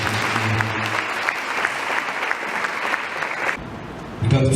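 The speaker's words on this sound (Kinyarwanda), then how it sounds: "Reka mbasabe twongere tumuha amashyi" A church congregation applauds loudly and continuously during a sermon, and the clapping cuts off near the end as a voice begins to speak.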